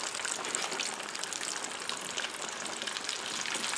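Chicken strips and zucchini fry in oil that has run a little too hot, giving a steady, dense, close sizzle and crackle that holds evenly throughout with no talking.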